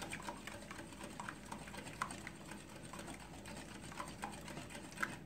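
A whisk or spoon ticks and scrapes against a bowl as sugar is stirred into a raw egg mixture for no-cook eggnog, a quick irregular clinking rhythm over a faint background hiss, fairly quiet and close.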